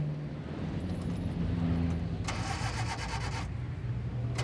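A car's starter cranks the engine in a rhythmic mechanical whir lasting about a second amid steady background noise, without the engine clearly catching.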